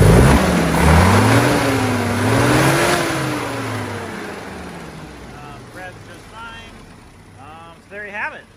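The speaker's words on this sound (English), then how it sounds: "We'll rev it up here." A Jeep F134 engine retrofitted into a low-hood Jeep revs loudly up and back down close by, then settles to a quieter idle, with brief voices near the end.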